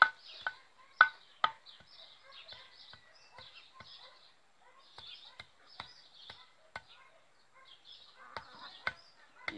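Quiet chicken clucking and murmuring, broken by sharp, irregular knocks and cracks nearby as cassava is broken up for the chickens.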